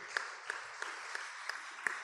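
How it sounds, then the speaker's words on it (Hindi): A church congregation claps in time during a service, a steady beat of sharp hand claps about three per second, faint and somewhat distant. "ताली बजाइए हालेलुया।"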